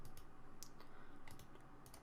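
Typing on a computer keyboard while using Windows 8.1 search, a steady run of light, close key clicks with no talking.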